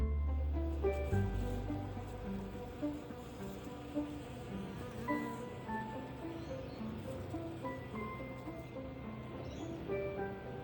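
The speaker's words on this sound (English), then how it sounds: "my bees came to collect pollen, dancing around the flowers." Honeybees buzzing nearby around dragon fruit flowers while collecting pollen, a steady layered drone of wings rising and falling as insects move about, with no talking.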